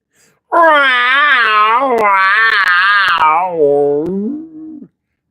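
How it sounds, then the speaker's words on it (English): A female cat yowls in pain during mating, a loud, close, drawn-out wailing moan that rises and falls in pitch for several seconds before fading, with no talking. "And Carrie said, Dana, because it's actually painful for the female cat"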